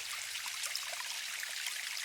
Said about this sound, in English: Oh, look at the river.